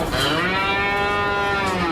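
A cow lets out one long, loud, drawn-out moo, close by and steady, with faint wind noise beneath and no talk.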